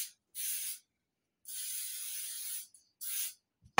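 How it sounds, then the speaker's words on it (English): Nonstick baking spray hisses onto cake pans in three close bursts, short, longer, short, separated by silence, with a small clunk at the end. "Just want to make sure you spray it really good."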